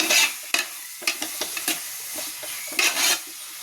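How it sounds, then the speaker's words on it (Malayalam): Onions sauté in a pan for chicken curry, a steady sizzle broken by repeated scraping stirs and spatula knocks against the metal, close and loud with no talk. "ഞാൻ നല്ലോണം വഴറ്റി ഉള്ളി വാടിത്തുടങ്ങിയിട്ടുണ്ട്"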